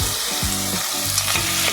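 Meat sizzles loudly as it hits hot oil with onion in a pan for a leafy vegetable dish, a steady frying hiss punctuated by a few stirring scrapes.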